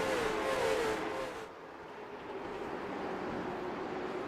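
Late model race cars roar past on the Hickory oval during a race, a loud engine sweep fading into a steady distant drone of the pack.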